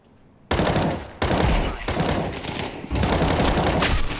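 Video-game gunfire comes in loud, close bursts of rapid shots, broken by brief gaps between volleys, with no voices over it.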